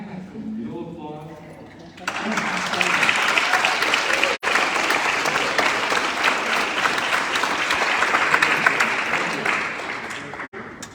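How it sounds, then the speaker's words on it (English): Sustained, loud commencement audience applause in a room at a winter graduation ceremony, a dense wash of clapping that swells abruptly and continues for about nine seconds after a brief stretch of speech. "Can I have some real applause?"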